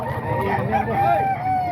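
Roosters crow and chickens cluck close by at a busy poultry market, layered together over a low background murmur.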